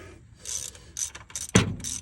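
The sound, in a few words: ratchet snugging bolts near brake master cylinder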